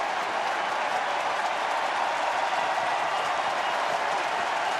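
Twins fans at a Milwaukee–Minnesota baseball game, July 3, 2011, roar and applaud in a steady, continuous wall of noise, hoping for the final out.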